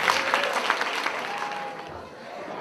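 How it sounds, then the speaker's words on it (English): A room full of guests at a class of '88 high school reunion claps for a former English teacher. The clapping is busy and fairly close at first, then thins and fades toward the end under a faint tone. "let's give a really warm round of applause for Arthur Krell."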